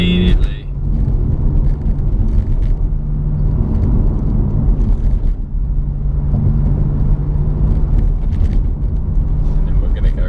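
A BMW M240i in Sport Plus mode accelerates with a steady low engine drone and rising throttle, heard from inside the car with a voice talking over it.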